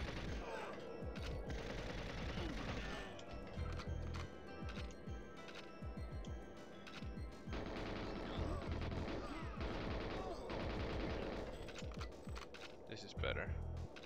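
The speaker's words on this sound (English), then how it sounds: "Burning through a lot of bullets really fast." Rapid gunfire from the GoldenEye James Bond video game, dense overlapping shots crackling in fast bursts across the whole stretch, loud and continuous with game sounds layered in.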